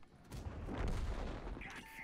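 Airstrike explosions in a tank video game: a short, heavy rumbling boom that swells and fades over a couple of seconds, with no talking.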